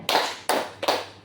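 A classroom clapping routine in which a group claps three times in a steady rhythm, the bursts sharp and fairly close, with no talking over them.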